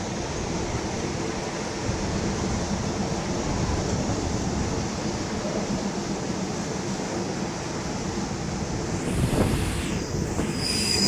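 Rapid train 112 rolls to a stop at Lopburi station in Thailand, a steady broadband rumble of wheels and cars running on for the whole stretch, with a brief rising squeal near the end.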